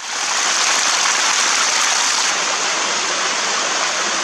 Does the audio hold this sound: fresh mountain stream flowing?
yes